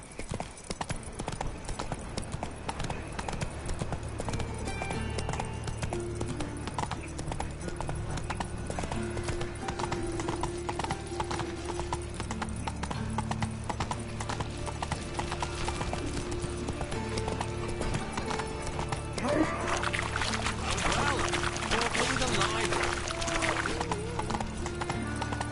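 Horse hooves clip-clop at a steady trot from Roach in The Witcher 3 video game, rhythmic and fairly close over a dense bed of game ambience and music, with a brief whinny-like swell near the end.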